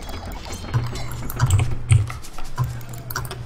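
Computer keyboard and mouse clicks during an Age of Empires 2 match on Arabia, a steady patter of close taps over a low background hum, with no talking.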